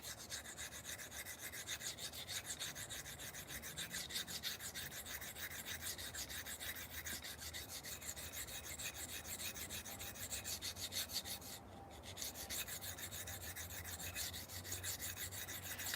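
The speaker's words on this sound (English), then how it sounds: "Sometimes the diamond plates will cut better on certain things than even a really aggressive" A knife blade is drawn steadily across a coarse diamond sharpening plate in fast, even rasping strokes, close and continuous for the whole stretch with one brief pause.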